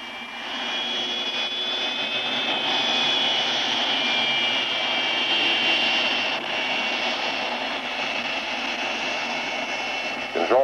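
The jet engines of a 1954 Boeing B-47 Stratojet power up on the runway, making a loud, sustained roar with a piercing whine that holds steady throughout.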